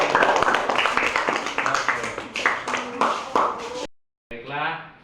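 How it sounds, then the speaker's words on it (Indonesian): Classmates in a school classroom clap together in a scattered burst of applause, with voices mixed in, before the room drops briefly silent and a single voice resumes speaking. "Tepuk tangannya teman-teman."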